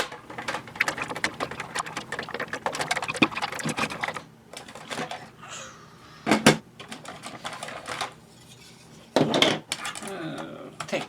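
Small metallic clicks, scrapes and rattles of screws being turned out to open a Kamco Action Robot Invader toy, close-up and busy at first, then sparser with a few louder clatters and short pauses.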